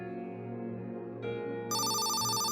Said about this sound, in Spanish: el teléfono sonó, cortando sus pensamientos como un cuchillo